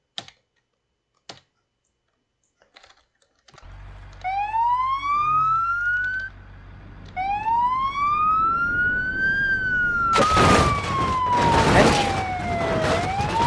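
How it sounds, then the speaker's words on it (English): A loud wailing ambulance siren in the driving game BeamNG.drive rises and falls repeatedly, joined later by a harsh burst of noisy crashing; a few faint clicks come first. "Siren still works."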